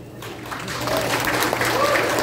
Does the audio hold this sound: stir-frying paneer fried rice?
no